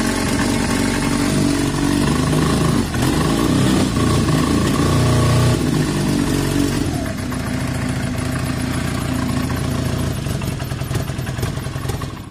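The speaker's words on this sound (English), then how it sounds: "And off, listen to the revs." A motorcycle engine runs loud and close, revving unevenly, then drops to a lumpy, clattering idle with a rapid steady chug.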